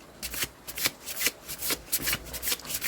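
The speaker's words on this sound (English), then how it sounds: "Yes, it shuffles really nice." An Angel Tarot card deck being shuffled by hand, a series of quick riffling bursts and soft slaps close up, repeated in an uneven rhythm with no voices.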